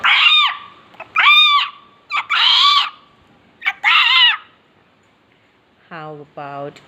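A child vocally imitates a hen with a series of loud, honking squawks in short bursts, separated by brief pauses, ending with two lower, quieter clucking sounds.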